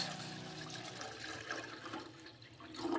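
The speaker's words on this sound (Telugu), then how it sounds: "ఒక గిన్నె పెట్టుకుని దాంట్లో నీళ్ళు వేసుకుందాం." Water poured into a steel bowl in a home kitchen makes a steady, close, gushing splash that continues throughout with no voices.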